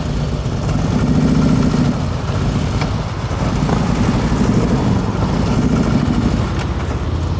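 A motorcycle engine rumbles loud and close, steady throughout, as the bike is restarted after stalling during a slow-ride exercise; no one talks.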